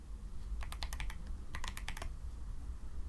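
Computer keyboard keys clatter as code is typed for p5.js, in two quick bursts of rapid, light clicks with a short pause between them, fairly quiet and with no talking.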